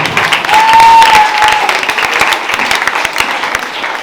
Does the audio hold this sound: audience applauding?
yes